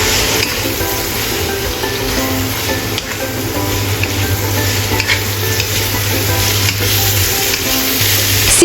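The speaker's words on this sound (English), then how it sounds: "Stir-frying shredded carrots and cabbage with salt and pepper in advance draws out their natural sweetness" Steady, loud sizzling of shredded carrots and cabbage being stir-fried in a hot pan with salt and pepper, with continuous crackle and occasional scraping stirs, no talking.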